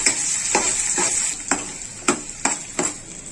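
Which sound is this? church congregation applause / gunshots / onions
onions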